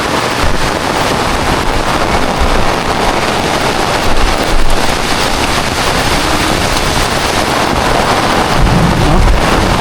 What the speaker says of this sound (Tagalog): Gusto kang init ganina pero karon nagulan